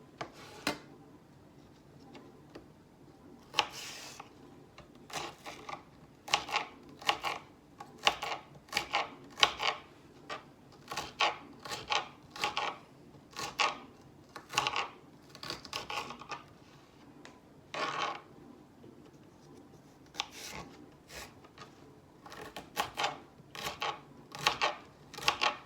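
A knife slicing celery stalks on a cutting board for freezing, with a steady run of crisp, close chops spaced in quick bursts and a few brief pauses.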